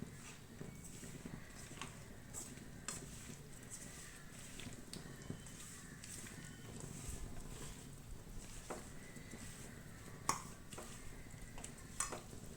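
Pieces of fish being tossed and mixed with homemade fish fry masala in a bowl, producing quiet, steady stirring and scraping with a few sharp clicks against the vessel.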